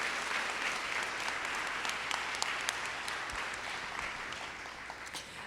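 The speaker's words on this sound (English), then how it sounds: "let's give them a round of applause" Sustained audience applause at a college fall convocation ceremony, a dense steady wash of clapping from a large crowd that holds at an even level throughout, with no talk over it.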